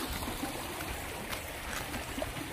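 Water flows and trickles continuously in a creek on a pig farm during a crossing, a soft, steady babble heard fairly close with faint gurgles and no talk.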